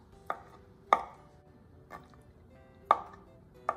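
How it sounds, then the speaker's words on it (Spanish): A knife chops peaches into small pieces on a cutting board, giving five sharp, separate taps at uneven intervals, close by and fairly quiet. "yo les voy a cortar en pedacitos pequeños"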